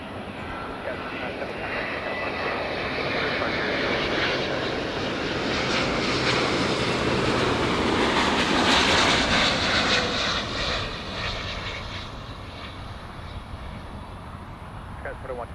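A Delta airliner arriving from Seattle lands at LAX, its engines a broad roaring rumble that swells to a peak midway and eases off as it passes, with people talking over it.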